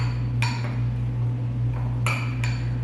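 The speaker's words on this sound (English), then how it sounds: "you want to give that a good stir" A spoon clinks against a dish while stirring chia seed pudding mixture, three or four sharp, separate taps over a steady low hum.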